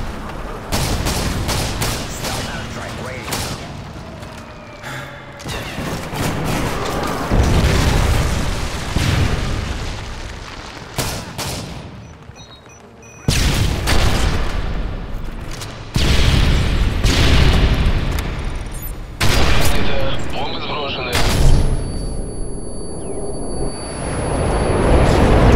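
Predator missile strike explosions in Modern Warfare 3, a loud chaotic string of heavy booms and crackling gunfire bursts with brief lulls, repeated blasts landing close through most of the stretch.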